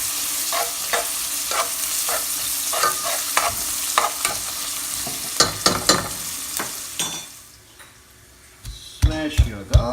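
Curry leaves fry in a pan with a constant sizzle, broken by repeated spoon scrapes and clinks as they are stirred; the sizzle drops away briefly before sharp clatters resume.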